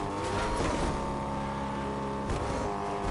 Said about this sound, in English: Car coming up the hill right in front of us.